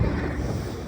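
Wind buffets a microphone outdoors, a steady low rumbling roar with no pauses over the whole brief moment.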